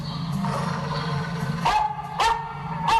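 Dog barks from a 1981 horror movie, several sharp barks arriving near the end over a continuous music or dialogue bed, fairly loud and close.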